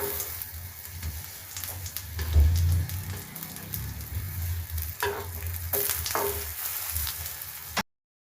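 Eggplant slices fry in hot cooking oil in a pan, giving a steady close sizzle and crackle broken by a few louder spatters and pan scrapes, with no voices, before the sound cuts off abruptly.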